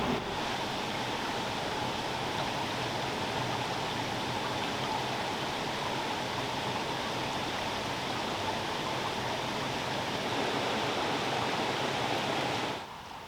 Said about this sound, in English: So we have this beautiful mill here with this stream running through it.